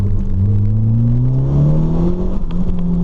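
A turbocharged car with its boost controller turned up accelerates hard: a loud, close engine drone climbs steadily in pitch through the gears, heard from inside with no talk.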